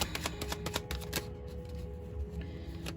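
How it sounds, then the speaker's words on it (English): Tarot cards being shuffled during a card reading, a quick series of crisp riffling snaps and flutters up close, followed by softer sliding and shuffling of the deck with no talk. "Let me shuffle."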